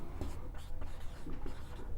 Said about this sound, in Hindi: अब यहाँ लिखेंगे द्वितीय